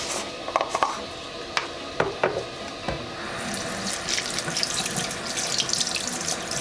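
Tap water runs steadily into a sink while an oil paintbrush is rinsed under it, with a few sharper splashes and clinks early on before the flow settles into a continuous hiss.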